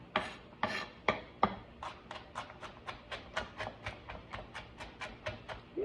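Knife chopping ginger root on a cutting board: a steady run of about twenty crisp, evenly spaced strokes, the first few louder and slower, close and clear with no talk.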